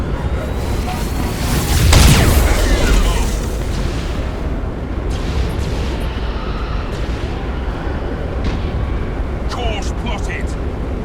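In the Battlefleet Gothic: Armada video game, a Nova cannon fires with a deep, booming blast that swells and then rumbles away, followed by scattered smaller explosions and thuds, with game voices speaking over the noise.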